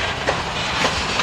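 Loaded freight train cars roll past close by on the rails, a steady loud rumble with rhythmic clickety-clack wheel beats and no voices.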